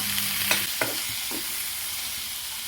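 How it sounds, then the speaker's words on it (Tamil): Onion, curry leaves and tomato sauté in hot oil for an egg curry, giving a steady close sizzle with a few sharp stirring scrapes early on. "இதுலேயே கருவேப்பிலை போட்டுக்கலாம், தக்காளி பழம் போட்டுக்கலாங்க. போட்டு அதையும் வணக்கிக்கலாம்"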